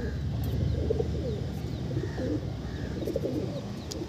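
Pigeons cooing inside a loft, soft low murmuring coos repeating steadily through the whole stretch, close and fairly quiet with a little chirping above.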